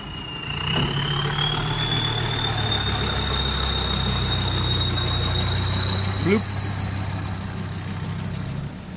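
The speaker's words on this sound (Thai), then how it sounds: "เสียงเทอร์โบมาแต่ไกลเลยวิ่งในป่าแบบนี้เสียงดังมาแต่ไกลเลย" A mini excavator's turbo diesel engine drones steadily in a forest, a high, whining turbo whistle rising over it, loud and continuous, with faint background noise.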